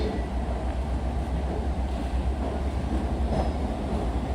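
On a platform at Jamaica station, a Long Island Rail Road train to West Hempstead rolls into track 7 during the evening rush, giving a dense, steady rumble of wheels and carriages with faint clatter and no clear voices.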